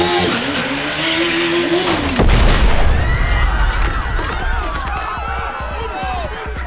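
A backpack bomb made of TATP blows up on a motorcyclist in a police action scene, a sudden heavy boom that cuts through a tense chase, followed by rumbling debris and commotion.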